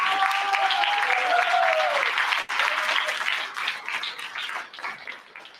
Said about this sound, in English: can we all just give a big round of applause to all the